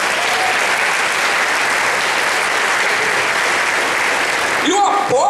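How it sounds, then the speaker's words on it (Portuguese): Church congregation applauding, a loud, dense, sustained wash of clapping that fades near the end as a voice begins to speak. "Você pode aplaudir o Senhor por isso?"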